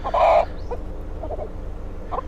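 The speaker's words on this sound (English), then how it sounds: "There's a couple of chickens inside this chicken box bags." Chickens crammed into box bags along a road toward Bogota cluck in short, close bursts, one loud squawk at the start and then scattered softer clucks.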